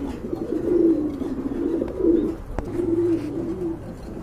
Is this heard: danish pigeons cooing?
yes